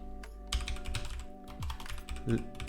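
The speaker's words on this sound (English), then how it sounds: "we will go to command prompt and type npm install Ripple" Someone types a command on a computer keyboard at a command prompt, a quick run of close, soft key clicks in an uneven rhythm.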